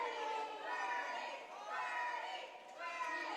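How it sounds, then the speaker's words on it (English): Crowd at a roller derby game between Pikes Peak and Denver Standbys cheers and chants in rising and falling waves, a dense, moderately near mass of voices with no single clear speaker. "the crowd here is just cheering on Birdie, saying, keep going, Birdie, keep going, Birdie"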